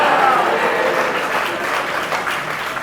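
An audience at a large gathering claps together in a dense, sustained round of applause that stays loud and even throughout, with faint voices mixed in beneath.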